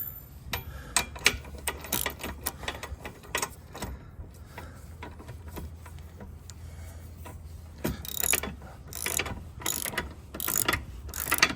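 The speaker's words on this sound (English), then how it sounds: "So I gotta tighten these down" A hand ratchet tightens bolts on both sides of a control arm with repeated rapid clicking runs, close and clear, pausing briefly between strokes.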